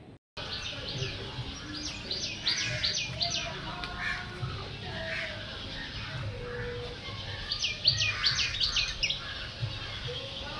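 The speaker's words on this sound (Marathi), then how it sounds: "चला तर तुम्ही पण ऐका माझ्यासोबत चिमण्यांची चिवचिवाट" Bursts of busy little chirps from sparrows, clustered twittering calls rising above a quiet village background.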